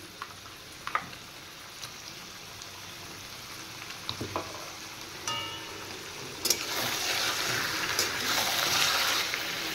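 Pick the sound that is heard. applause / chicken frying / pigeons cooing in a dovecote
chicken frying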